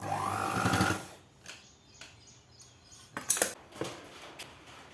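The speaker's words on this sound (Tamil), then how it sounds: "இனி இப்படி ஒரு தையல் போட்டுக்கலாம்." A sewing machine stitching a blouse runs in a loud close burst for about a second, then stops, followed by scattered light clicks and metallic handling taps.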